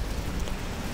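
Steady rain falls over the town of Aguada, a dense, even hiss of drops on surfaces with no other sounds standing out.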